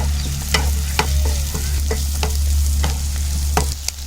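Sliced onions and slit green chillies sautéing in hot oil for a Tamil vegetable kurma, a steady close sizzle broken by regular scrapes and knocks of a stirring spoon against the pan.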